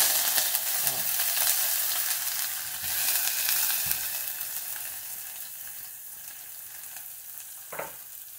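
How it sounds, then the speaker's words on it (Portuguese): Onion sautés in a pan for a stir-fry of watermelon rind and maxixe gherkin, giving a bright, constant sizzle that slowly eases, with a few soft knocks and a spatula scrape near the end. "Aqui a gente já vai estar colocando a cebola."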